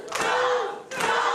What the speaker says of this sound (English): The crowd.